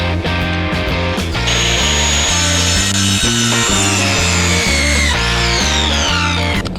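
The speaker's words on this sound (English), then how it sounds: "I'm just going to measure each one to 2 feet and cut them all out" A power saw cuts wooden decking planks to two-foot lengths for a backyard bike trail drop, with a loud, continuous rasping, pulsing rhythm that repeats for the whole stretch, close up and without speech.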